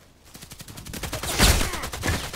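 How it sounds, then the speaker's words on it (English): Rapid automatic gunfire in the online shooter Contract Wars, a dense, continuous burst of fast shots that swells louder midway, close and without pause. "don't tell me you're shooting at me now"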